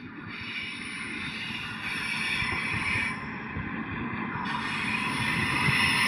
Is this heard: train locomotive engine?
yes